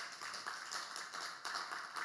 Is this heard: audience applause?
yes